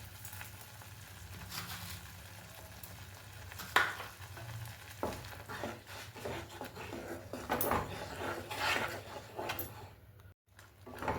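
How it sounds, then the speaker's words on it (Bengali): Spinach chutney being stirred in a pan, a soft continuous sizzle with scattered scraping strokes of a spoon, quiet and steady, with no talking. "বেশ কিছুক্ষণ আমরা এইভাবে নাড়তে থাকবো।"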